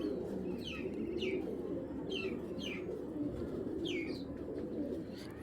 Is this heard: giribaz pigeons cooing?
yes